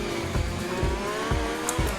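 Tires squealing as brakes lock up on a Formula 1 car in the F1 2020 video game, a strained high squeal over the loud, pulsing engine drone of the race car.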